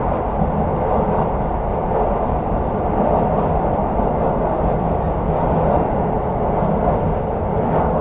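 Gajayana passenger train with new-generation stainless executive cars crossing the Brantas river bridge, heard from on board as a loud, steady rumble and roar of wheels and structure, with no break.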